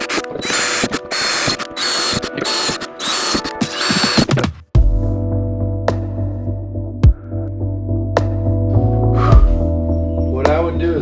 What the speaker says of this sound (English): where you need to drill the pilot holes